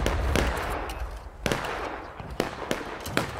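Musket shots crack out in a War of Rights battle, one loud sharp report followed by several more scattered bangs over distant battlefield rumble, with no clean single volley.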